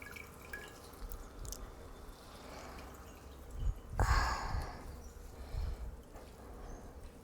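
Water dripping and splashing from squeezed leafy greens in a home kitchen, a few wet spatters and a louder squeeze-and-drip burst midway, close and fairly quiet.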